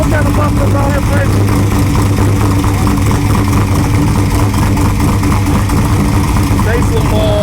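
A 1978 Chevy Impala Aerocoupe with an LS engine swap and Euro chamber mufflers idles steadily and loudly close by, a low rumble throughout with people talking over it.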